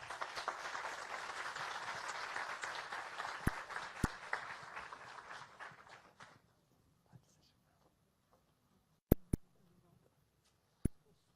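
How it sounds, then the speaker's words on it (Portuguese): Audience applause at a sustainable-development talk show panel in São José dos Campos, a crowd clapping for several seconds that fades out into near quiet, followed by a few isolated sharp knocks. "vamos receber com salva de palmas"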